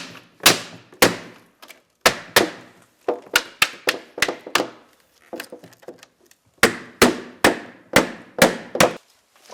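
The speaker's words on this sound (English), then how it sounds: "You just reapply the beadwork into place by using a plastic headed hammer" Sharp wooden-sounding taps from a plastic-headed hammer tapping glazing bead into place around a picture window glass, struck in irregular bursts of single and double hits, close and crisp with brief silences between.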